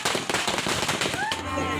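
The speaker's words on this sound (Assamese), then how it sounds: "এয়া দৰা ঘৰৰ মানুহ আহি পালে, বাটত ফটকা ফুটালে" Firecrackers are set off on the street as the groom's party arrives at an Assamese wedding. Sharp pops crackle in a rapid, uneven string close by, with voices and festive noise around them.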